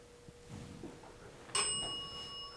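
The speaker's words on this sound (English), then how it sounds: "That's the bell." A bell rings once with a bright, ringing strike inside a funeral home, its tone lingering and slowly fading over a quiet, faintly humming room background.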